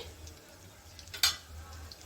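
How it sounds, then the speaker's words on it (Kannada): Samosas fry in hot oil over a medium flame, a quiet steady sizzle with a short sharp clink or splash partway through. "ಎಣ್ಣೆಯಲ್ಲಿ ಹಾಕೊಂಡ್ಮೇಲೆ ಎರಡು ಕಡೆ ಚೆನ್ನಾಗಿ ಫ್ರೈ ಆಗೋವರೆಗೂ ಎಣ್ಣೆಯಲ್ಲಿ ಕರಿದು ತಗೋಬೇಕಾಗತ್ತೆ ಮೀಡಿಯಂ ಫ್ಲೇಮಲ್ಲಿ ಇಟ್ಕೊಂಡು ಫ್ರೈ ಮಾಡ್ಕೊಳ್ಳಿ"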